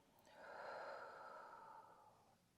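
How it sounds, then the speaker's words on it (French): Slow, calm exhale during a back massage, a single soft breath that swells and fades over a couple of seconds, faint and close. "On respire ensemble"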